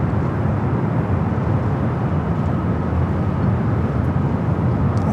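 A Lufthansa A350-900 airliner in a 100-year livery at LAX airport gives off a loud, steady broadband jet roar that holds at an even level throughout, with no speech.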